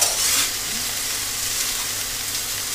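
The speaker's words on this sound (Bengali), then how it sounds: "আর ডাঁটা আলু কিন্তু একদমই হালকা করে ভাজবো, একদম কিন্তু তেলে ছাকা তেলে ভাজবো না, একদম অল্প তেল দিয়েছি।" Drumstick pieces and potatoes fry lightly in a small amount of oil, giving a steady, close sizzle that holds an even level throughout with no talking.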